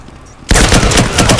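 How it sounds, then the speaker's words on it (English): Rapid automatic gunfire in the video game Firewall Zero Hour, bursting in loud and close after a brief quiet moment and continuing in a fast rattling string of shots. "Single shot at us."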